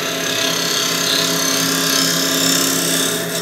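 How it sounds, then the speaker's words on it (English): A wood lathe spins a small wooden pendant as a scraper cleans up its face, giving a steady, close, even whir and hiss without pause or speech. "I just got a scraper here"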